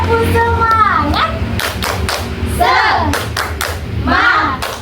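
A group of children doing a rhythmic tepuk semangat clapping chant in a classroom, with close bursts of patterned hand claps mixed with loud chanting voices.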